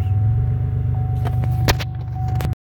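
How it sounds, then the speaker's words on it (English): A car engine idling with a low steady rumble, a few clicks and a sharp clack near the end before it cuts to silence. "I'm gonna turn my car on."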